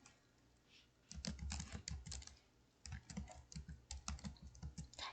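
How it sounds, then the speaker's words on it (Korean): Keystrokes on a computer keyboard, with repeated backspace presses in quick, uneven bursts after a short quiet start, close and soft with no talking. "백스페이스를 눌러서"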